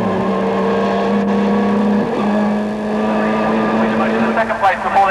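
Touring cars of the 1989 British Touring Car Championship race down to a chicane, a steady engine drone that wavers and shifts under continuous commentary, loud and fairly near.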